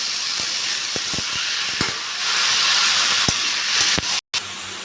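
Pieces of ash gourd dropped into hot oil seasoned with panch phoron and fried ginger paste, setting off a loud, steady steamy hiss with a few sharp clinks and a brief break near the end.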